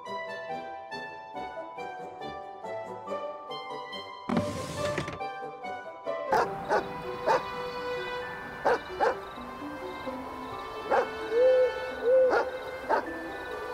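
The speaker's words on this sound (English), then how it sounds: "I've never seen him bark like that." Dog barking in the Watch Over Christmas video game at night, with several sharp, loud barks from about six seconds onward over a steady game music background, after a brief burst of noise.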